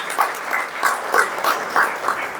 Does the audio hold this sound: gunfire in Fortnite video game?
no